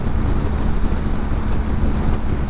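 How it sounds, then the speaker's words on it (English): Steady, loud wind roar buffeting a helmet from the passenger seat of a BMW 1250/1300 motorcycle at speed, constant low rumble throughout with no talking. "the intensity of the wind noise stays the same"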